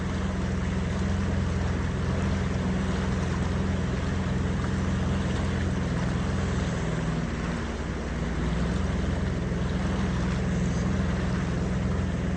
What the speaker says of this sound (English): The beauty of the jet boat is you've got no propeller to break off